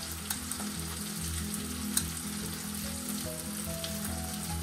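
Chopped tomato sizzling in hot oil with whole cumin and ginger paste, a steady close frying hiss with faint crackles and a few stirring clinks, no voices.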